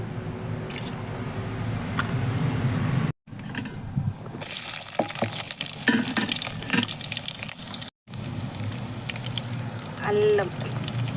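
Ground tomato paste hits hot oil in a pan on a stove, bursting into loud sizzling and spattering with a few clanks, framed by short cuts of quieter background and a brief voice.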